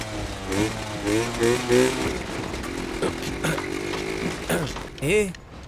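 A motorcycle engine runs and revs during a test ride, a buzzing drone that rises and falls in pitch under overlapping voices in a dubbed film scene.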